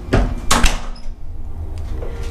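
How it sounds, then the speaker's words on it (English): A hotel room door at the Grand Californian at Disneyland is opened, giving a couple of close wooden knocks and latch clicks followed by a soft swing and faint room noise. "Got the door."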